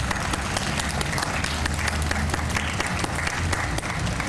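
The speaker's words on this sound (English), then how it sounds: "So let's give our students a round of applause and our teachers." An audience applauds students and teachers at a Constitution Day event, a continuous, busy wash of many hands clapping with a low rumble of crowd noise beneath and no speech.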